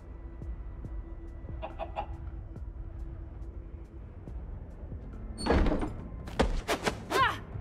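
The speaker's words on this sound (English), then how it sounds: "But that clucking thing is what we came for!" A chicken in the Minecraft Story Mode video game gives short clucks, first faint and then louder in quick bursts near the end, over a low rumbling game backdrop with no speech.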